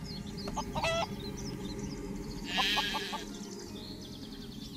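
A chicken in the game Craft the World clucks in a few short, evenly spaced bursts over steady low background noise, with no talking.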